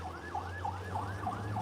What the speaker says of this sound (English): Bunch of sirens.